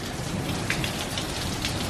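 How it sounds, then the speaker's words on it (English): Heavy rain from an Easter 2020 storm in Columbus, Mississippi pours down in a dense, constant hiss, pattering loudly on surfaces nearby with no voices. "Pretty good rain."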